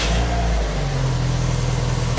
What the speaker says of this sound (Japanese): エンジンかけていきましょう。